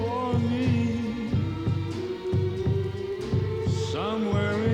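Repeating heartbeat thumps from a North Kansas City Hospital cardiac care TV ad, a steady lub-dub pulse pounding under a sung love ballad with music throughout.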